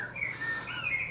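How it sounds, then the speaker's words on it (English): Birds sing beside the Leeds and Liverpool Canal near Halsall on a May walk, a steady run of high chirps and warbling calls close by in a quiet outdoor setting with no talk. "listen to the birds"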